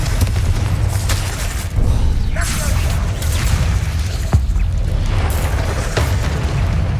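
Confringo explosive curse blasts in a Hogwarts Legacy duel, with booming bursts and whooshing spell sounds over a continuous rumbling fight, while a voice talks intermittently in the foreground.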